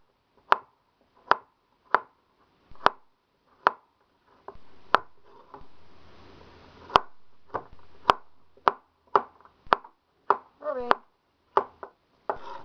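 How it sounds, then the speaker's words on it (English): A knife chops a carrot thinly on a cutting board for homemade dog food. The sharp, regular chops are close and distinct, about fifteen in all, with a short rustle of handling in the middle. "I cut up carrot."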